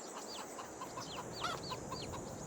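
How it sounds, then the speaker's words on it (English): Chickens and baby chicks on a farm in the video game Farming Simulator 22 cluck in repeated short chirpy calls, faint and steady over a constant low background hum. "I just want to show you the chickens. Look, we've got some baby chicks."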